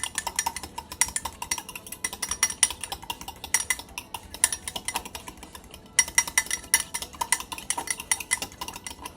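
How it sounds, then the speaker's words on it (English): Coffee being whisked with a fork instead of a whisk makes a steady run of rapid metallic clinks and scrapes against the cup. The sound is close and continuous for several seconds, with no talking. "you can like eventually like start smelling it when you're like whisking it"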